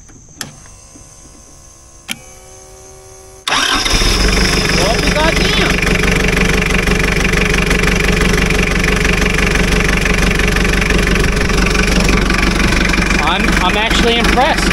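A couple of quiet clicks, then a 2.4-liter diesel engine in heavy equipment suddenly starts from a jump starter and settles into a loud, steady, rattling idle that continues to the end.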